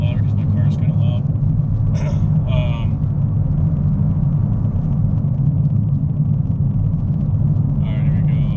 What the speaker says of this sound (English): I'm going to try to speak a little bit louder because my car is kind of loud.